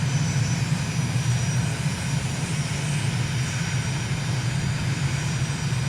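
A steady, unbroken airplane engine drone from a flight simulator game holds on approach to runway 29, a dense low hum with a constant roar above it and no pauses or talk.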